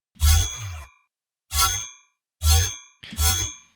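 A magic weapon sound effect for a Unity 3D game kit, shaped with flanger and ensemble effects: four bright, shimmering ringing bursts with a deep low thump, the first longer, then three shorter hits spaced about a second apart, each clean and alone.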